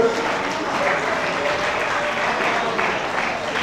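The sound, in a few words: applause for the speaker's wife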